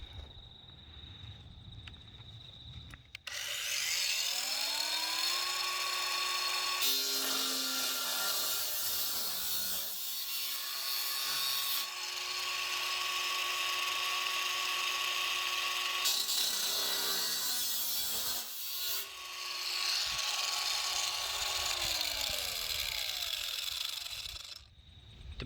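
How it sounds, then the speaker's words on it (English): A grinding disc cutting material outdoors over grass, a loud sustained abrasive whine that runs for long stretches with brief dips and pitch shifts as the cut is eased and resumed, with no voices. "Don't have too many of these grinding discs, so I'm going to go nice and slow, and hopefully it'll last."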